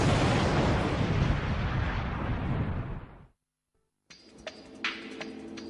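A replica of the huge 1453 cannon fires with a massive roaring blast that rumbles and fades over about three seconds. A short silence follows, then distant outdoor sounds with a few faint bangs.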